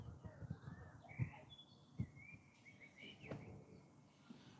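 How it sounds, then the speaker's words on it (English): A Eurasian blackbird sings outdoors in faint, fluting phrases at a distance, with soft low thumps and background noise underneath. "A Eurasian blackbird at the moment."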